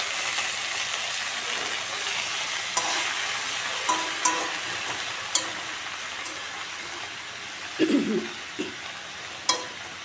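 Greens sizzle steadily in a hot wok over garlic, black cumin and dried chili, with occasional stirring clinks and scrapes. It is close and there is no talking.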